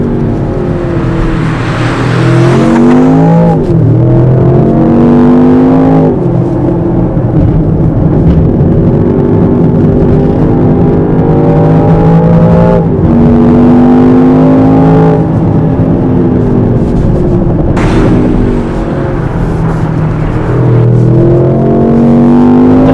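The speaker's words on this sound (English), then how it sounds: "So this is quite a good bumpy road, makes the car work hard" A Range Rover Sport SV drives over a bumpy road, its engine note rising and falling steadily in a close, loud cabin drone under a continuous low rumble of tyres and suspension.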